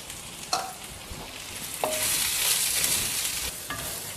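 Sesame seeds go into a frying masala with roasted peanuts for a kovakkai (ivy gourd) gravy, bringing sharp spoon clinks against the pan over a loud, steady sizzle that swells after the seeds are added.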